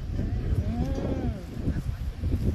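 A cow moos once in a long, drawn-out low call out in farm fields, fairly close, over a murmur of background noise.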